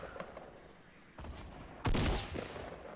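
Gunfire in the video game Fortnite: a couple of quick sharp shots early, then a loud burst of rapid fire midway that trails off into a noisy fading tail.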